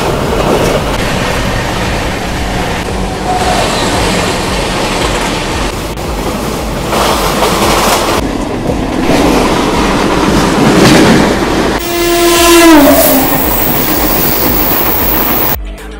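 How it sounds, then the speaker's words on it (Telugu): Kongu SuperFast Express 12648 running from Hazrat Nizamuddin to Coimbatore roars loudly from inside a carriage, with steady rumble and wheel clatter and a brief high tonal squeal or horn near the end. "ఇప్పుడు నేను ట్రావెల్ చేస్తున్న ట్రైన్ కొంగు సూపర్ ఫాస్ట్ ఎక్స్ప్రెస్."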